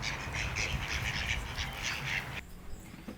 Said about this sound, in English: What you need is a duck.